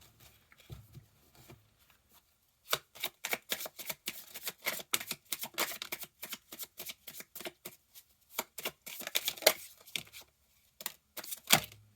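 A deck of tarot cards shuffled by hand, with rapid riffling flutters in bursts after a quiet start, close and fairly soft, with brief pauses between passes.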